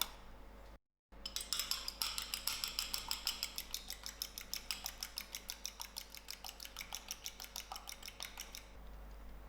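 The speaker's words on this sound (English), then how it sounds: "I have an egg to egg wash, and I'm going to quickly crack it. I'm going to beat this egg up." A fork whisks an egg for egg wash in a bowl, a quick steady run of light clinking taps that goes on for several seconds after a brief gap, close and quiet.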